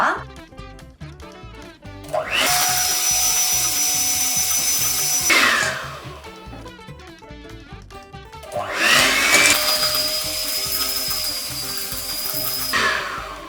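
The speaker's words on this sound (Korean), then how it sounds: "계란을 넣고 2분 정도 더 휘핑을 한 다음에" Electric mixer whipping butter, sugar and room-temperature eggs for a flourless gluten-free cookie dough, whirring loudly in two long sustained bursts with a short pause between them.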